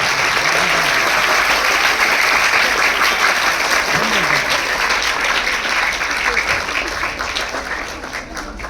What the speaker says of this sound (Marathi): जोरदार टाळ्यांचा कडकडाट.